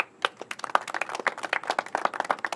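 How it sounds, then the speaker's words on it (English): A small audience claps for a retiring police chief at a public-safety press briefing, a short burst of close, sharp, fairly sparse hand claps with no talk. "Let's give her a round of applause."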